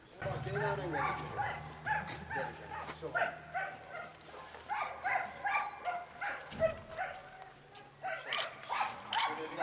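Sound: dogs barking

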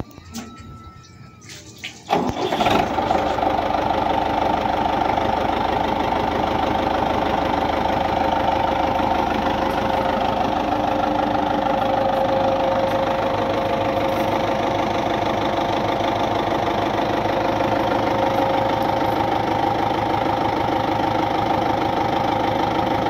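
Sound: farm machinery for sale, engine running

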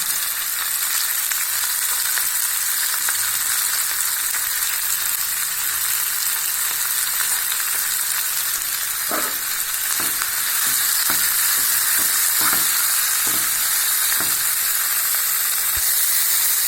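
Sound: beaten egg frying with tomatoes in pan

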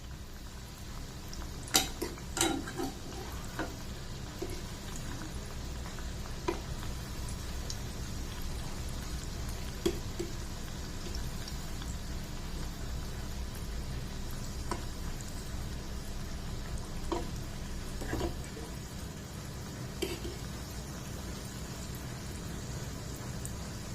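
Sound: cauliflower manchurian frying on medium flame

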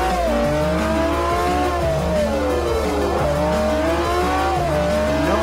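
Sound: Lamborghini Aventador tires skidding, from video game Forza Motorsport 4

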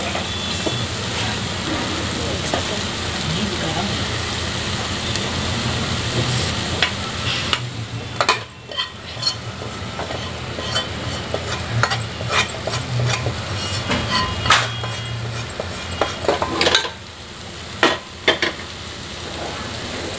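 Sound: stirring food in pressure cooker

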